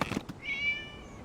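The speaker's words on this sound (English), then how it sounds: "It was just a cat." A cat meows once inside the Genshin Impact game world, a short, clear, mid-pitched cry that follows a few soft rustling taps and then fades into quiet.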